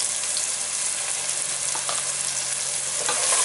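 Chopped onion frying in a pan with ginger, garlic and red chili paste for egg pulao gives a steady, dense sizzle that holds evenly throughout, close and fairly loud, with no voices.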